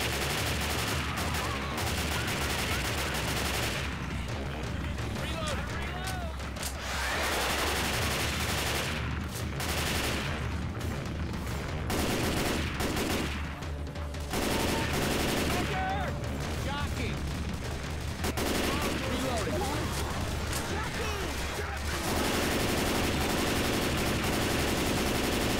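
AK rifle gunfire in Left 4 Dead 2, loud sustained automatic bursts with brief gaps, dense and continuous over game ambience, with players talking intermittently.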